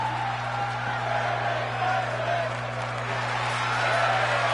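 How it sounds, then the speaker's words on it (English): Wrestling crowd at an Allstar Pro Wrestling show roars steadily through a submission hold, a broad sustained wash of cheering and shouting with constant hum underneath. "For the second time, this crowd making some noise."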